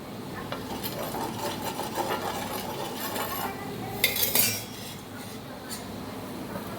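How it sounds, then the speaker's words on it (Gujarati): A utensil spreads oil across a heated tawa griddle before batter goes on, making repeated scraping strokes and light metallic clinks, with a sharper, brighter scrape-and-clatter burst near the end. "થોડું આપણે તેલ લગાવી દઈશું।"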